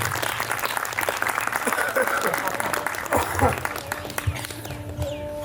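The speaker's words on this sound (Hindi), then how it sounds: "मैं निवेदन करता हूँ मौलिन सर का, प्लीज सब लोग तालियों से उनका स्वागत कीजिए" Applause from a gathered crowd, a steady patter of many hands clapping at moderate volume, with some background voices mixed in.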